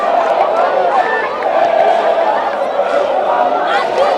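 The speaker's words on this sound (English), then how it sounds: "We can hear the crowd getting involved now." Crowd at a schools rugby match, Van der Stel against Helderberg, singing and chanting loudly as a dense, continuous wall of voices, with a commentator talking over it.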